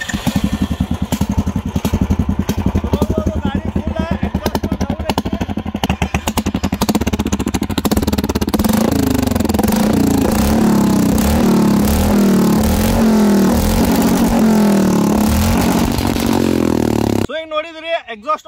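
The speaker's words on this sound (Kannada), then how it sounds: "ಈಗ ಫೈನಲಿಗೆ ಗಾಡಿ ಸೌಂಡ್ ಟೆಸ್ಟ್ ಮಾಡೋ ಟೈಮ್ ಐತಿ" A Royal Enfield Bullet motorcycle fitted with a speaker exhaust idles and revs hard close up, a loud rapid thumping beat rising into a harsh roaring blast that cuts off abruptly at the end.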